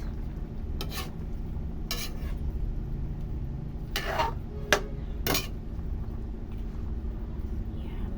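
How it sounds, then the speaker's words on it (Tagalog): A pot of food is stirred on the stove, with several short scraping, clinking strokes of a utensil against the pot over a steady low background hum. "Tapos haluin ulit guys."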